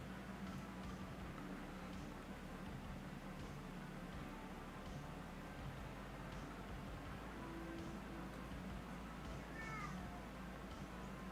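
A cat meows faintly a few times beneath a steady broadband hiss, distant and quiet, with no speech.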